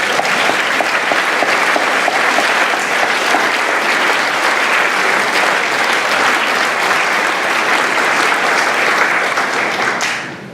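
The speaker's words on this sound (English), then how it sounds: "So I'd like to give a round of applause to the parents." A large audience at a school speech day claps steadily for the parents, a dense, loud round of applause lasting about ten seconds before fading at the end.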